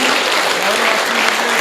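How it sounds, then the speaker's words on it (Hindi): Hands raised, an audience at a Hindi comedy poetry gathering (hasya kavi sammelan) claps loudly and continuously, a thick, close wall of applause. "हाथ खड़े करो और जोरदार तालियां बजाओ"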